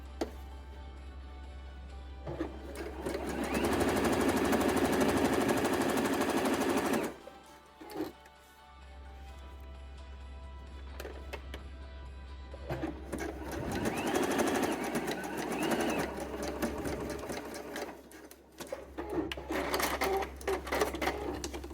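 A sewing machine stitches the waistline of a reversible three-piece swimsuit, running in two long steady bursts of rapid needle chatter separated by pauses, with quieter short runs and handling sounds between.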